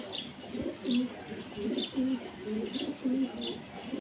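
Pigeons, including Rampuri pigeons, coo in a steady series of low, throaty calls, repeating about every second, fairly close, with faint chirps above.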